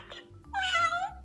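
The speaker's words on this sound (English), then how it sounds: "The cat meows and purrs." A single cat meow close up, a short drawn-out tonal cry rising then falling, preceded by a brief faint chirp.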